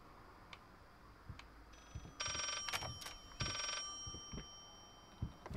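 Two old-style telephones ring in the horror video game Layers of Fear, giving two loud bursts of electric bell ringing amid faint ticking and room noise, with no talk.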